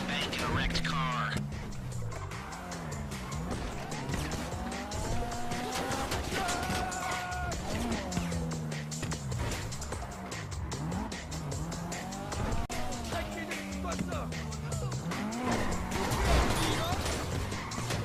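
Car driving in a video game heist mission, engine drone with repeated tire squeals and skids as it swerves, loud and continuous under a busy game mix with music and voices.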